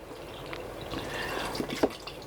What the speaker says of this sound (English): we're going to put the beef broth in here also